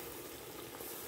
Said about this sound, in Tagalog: ilalagay na po natin yung isda. Ayan, nahayaan po natin yung isda dyan hanggang sa medyo maprito-prito siya